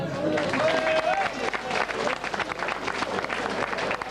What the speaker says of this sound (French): donnez-leur un petit ou un gros applaudissement